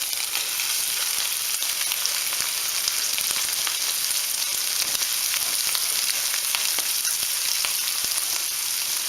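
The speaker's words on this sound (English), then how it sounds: "Now this is Lake Erie perch that I'm cooking." Small Lake Erie perch fillets fry in oil that runs a little too hot, giving a loud, continuous close sizzle with scattered sharp pops and crackles and no talking.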